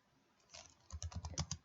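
Quick, faint taps of typing on a computer keyboard, starting sparse and then a short run of about eight fast keystrokes.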